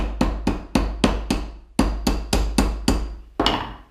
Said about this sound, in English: So a leather mallet and the anvil with a mandrel